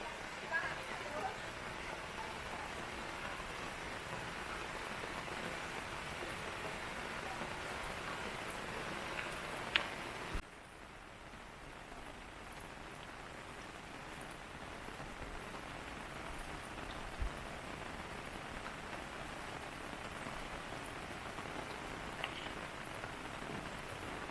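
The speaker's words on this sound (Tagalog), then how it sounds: "Dahil nga malakas ang ulan eh." Steady heavy rain pattering on surfaces and garden plants, a dense constant hiss that briefly dips partway through, then continues.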